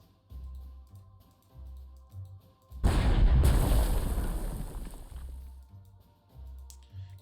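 A single heavy artillery shot from the Panzer Corps 2 strategy game booms out loud and close, its deep rumbling blast rolling on for a couple of seconds over a quiet, rhythmic low background hum.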